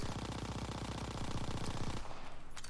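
An M1928 submachine gun fires a rapid full-auto burst in Call of Duty: Vanguard, with evenly spaced shots rattling loudly for about two seconds before cutting off into a short ringing tail.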